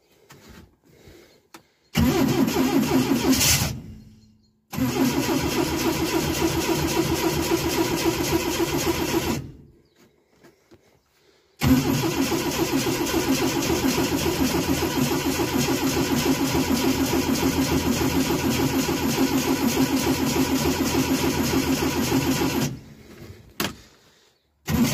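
A Renault 10 engine with the choke pulled cranks, catches and runs at a steady fast idle, then cuts out and restarts for a longer stretch of idling, with short silences between the runs.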